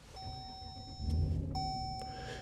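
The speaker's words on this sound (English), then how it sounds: "You hear that exhaust, it definitely sounds awesome." A Ram pickup truck with a Hemi engine starts up and settles into a low exhaust rumble, with cabin chimes and electronic beeps sounding over the engine.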